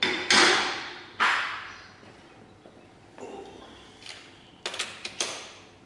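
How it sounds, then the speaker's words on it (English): A slide hammer yanks on a car body panel, giving sharp metallic knocks: two strong hits, a pause, then several quicker clanks, close and clear against a quiet background. "bad choice because the slide hammer was lifting the panel up"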